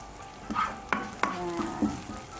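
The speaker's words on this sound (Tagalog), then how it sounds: "Nilagay ko na yung garlic and yung ginger natin." Garlic and ginger sauté in a little oil for chicken gizzard and liver adobo, giving a steady close sizzle broken by a few sharp utensil scrapes and stirring knocks, with no voices.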